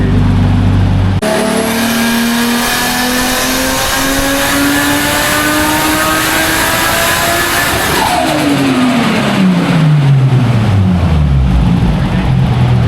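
A drift car's engine revs hard on a dyno pull inside a shop, a loud sustained climb in pitch that peaks and then drops away as the throttle is released near the end.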